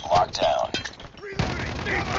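Bursts of automatic gunfire from the mobile shooter COD Mobile come in quick, loud volleys, then a pause and a denser stretch of shooting, with a voice briefly heard amid the game audio.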